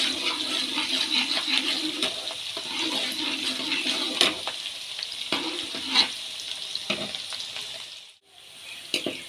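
Onions frying in a pan until golden brown for a moringa flower mutton curry, a steady loud sizzle with intermittent spatula scrapes and knocks, close up, ending in a brief near-silent pause before the sizzle resumes.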